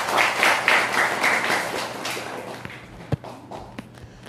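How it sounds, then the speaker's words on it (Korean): An audience of soldiers at a 25th Division dharma service at a Buddhist temple claps together, a dense, steady patter of hands that thins out into scattered individual claps and taps toward the end. "큰 박수 부탁드립니다"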